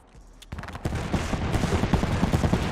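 Rapid automatic gunfire in the video game Apex Legends, a dense continuous burst of shots that starts after a brief quiet moment and keeps going loud and close.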